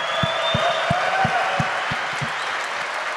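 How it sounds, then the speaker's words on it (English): Conference audience applause, a steady wash of many hands clapping close and loud throughout, with low thumps under the crowd noise. "everybody needs to give him a round of applause"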